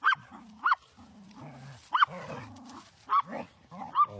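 A Chihuahua gives several sharp, high yapping barks up close, with low growling and grumbling between the barks.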